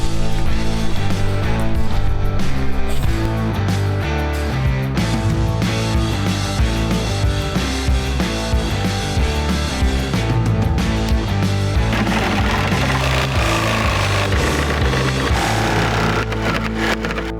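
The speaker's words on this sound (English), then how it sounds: "Jigsaw ran out of batteries. That was one full battery." A cordless jigsaw cutting wood for a DIY skate spot, a loud, sustained rattling whir that runs for many seconds with a steady, harsh buzz and little variation until it slows near the end.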